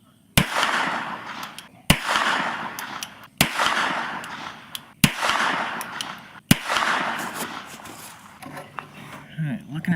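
Five sharp gunshots from a tiny North American Arms Mini Revolver in .22 LR, fired into a Carhartt jacket over a gel block, evenly spaced about a second and a half apart, each followed by loud ringing and noisy rumble.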